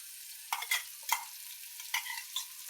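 Food sizzles and spatters in hot salted oil in a pan, a steady bright hiss broken by repeated louder bursts as it is stirred, close and with no voices.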